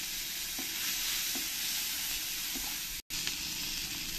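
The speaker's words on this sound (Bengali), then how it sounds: "প্রথমে আমি এই রসুনগুলো দিয়ে তেলের মধ্যে একটু ভেজে নেব" Garlic and green chillies fry in hot oil in a wok, giving a steady, close sizzling hiss with a few soft stirring scrapes and one brief dropout.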